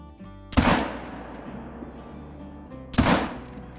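Two sharp, booming 45-70 rifle shots ring out in a hunting video game, about two and a half seconds apart, each with a short decaying tail.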